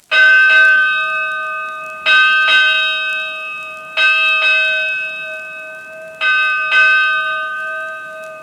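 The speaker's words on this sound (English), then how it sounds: "ring the ship's bell smartly" The ship's bell of Old Ironsides, the USS Constitution, rings out smartly in four pairs of clear metallic strikes, each pair decaying in a long bright tone, loud and close with no voices.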